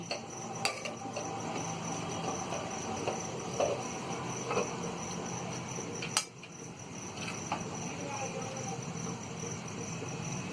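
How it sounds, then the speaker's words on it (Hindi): Mutton liver masala stirred with chopped coriander in a pan, spaced metal spoon clinks and scrapes over a soft sizzle, with a person talking throughout. "हरा धनिया को चला देंगे और इसे एक डिश में हम निकाल लेंगे"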